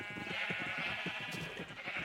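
A crowd of sheep packed onto a small island in a video game bleats over and over, the overlapping calls close and steady with no pauses.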